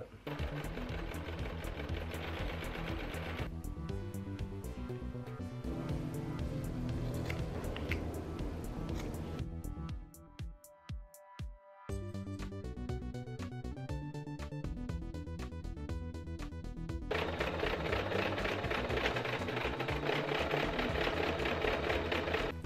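A sewing machine stitches a fabric stripe onto a garment in long continuous whirring runs, close and steady, with a short pause midway before stitching resumes.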